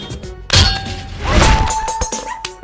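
Gunfire and impact hits from an AC80 rifle during a mobile shooter match, loud bursts starting about halfway in with a sustained clattering tail and a few sharp late cracks, no talk.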